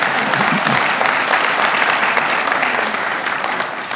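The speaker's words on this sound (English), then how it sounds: "Yeah, clap for that." Dense, steady crowd applause fills a ribbon-cutting ceremony for the Marana Aquatic & Recreation Center, loud and sustained throughout with no pause.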